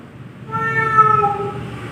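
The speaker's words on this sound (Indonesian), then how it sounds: "Ternyata hewan kucing." A cat meows once, a single drawn-out tonal cry lasting about a second and a half, fairly close and clear over a faint background hum with no talking.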